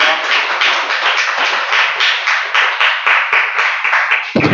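An audience at a Reformed-faith church seminar in Goyang claps for a lecture, producing dense, continuous applause with quick overlapping hand claps held at an even level before ending abruptly.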